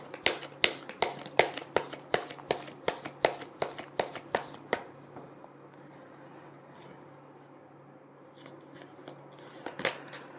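Tarot cards being shuffled by hand, a quick run of about fifteen crisp, regular riffling snaps up close, then near silence with a few soft handling taps and one final snap.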